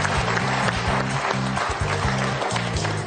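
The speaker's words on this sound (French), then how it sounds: "Applaudissements pour Hans Gerhard." A television quiz show audience applauds, a dense burst of clapping over a repeating tonal musical pattern.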